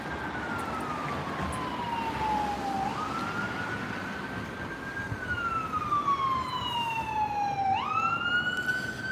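A police siren wails slowly up and down over steady city traffic noise in Washington DC, fairly close and loud, its pitch rising again near the end.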